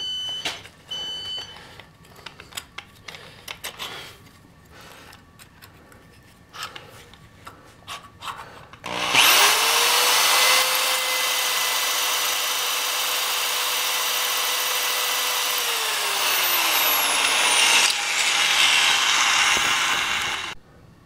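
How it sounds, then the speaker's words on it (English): A power drill fitted with a 1/4 inch bit bores into a hard metal cam. A loud, steady whine runs for several seconds after light scraping and handling noises, then winds down as the motor slows. "Now, I'm going to drill it again with 1/4 inch."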